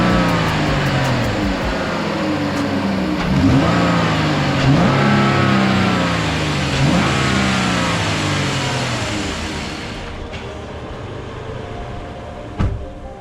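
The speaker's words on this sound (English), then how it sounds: "I'll do a nice clip here now quickly of the car on so you hear how it sounds" Jeep Grand Cherokee engine runs close up and is revved several times, each rev rising and falling, then it settles to a quieter idle and a click near the end.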